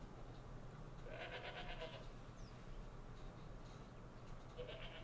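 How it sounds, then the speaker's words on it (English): Goats bleat faintly at a distance in a few short wavering calls against a steady background hum. "Goats."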